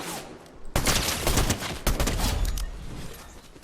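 Gunfire in a video game shooter, with a sudden burst of rapid shots starting after a quiet moment and continuing as a loud, dense fusillade with a few sharper cracks.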